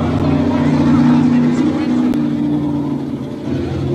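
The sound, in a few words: drag racing car doing a burnout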